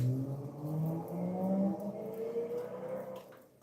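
A noisy diesel car passes along a residential street, its engine rumble swelling nearby and then fading away, with no talking over it.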